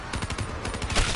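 Ray gun firing in a Call of Duty game, a rapid string of loud, evenly spaced energy bursts sounding close and unbroken for about a second.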